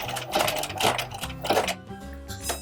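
A sewing machine stitches an applique in short, uneven runs, with rhythmic mechanical clatter rising and easing as the needle slows near corners, close and clear.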